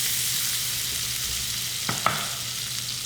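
Lemon juice is added to browned butter in a hot pan while cooking fish. Browned butter sizzles steadily and brightly, with a couple of brief spatters as the juice goes in, and no one is talking.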